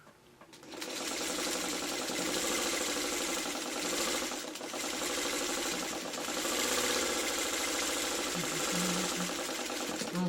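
A sewing machine stitches quilt block seams, its steady, fast mechanical whirring running close and continuous for the whole stretch after a brief start, with slight changes in speed.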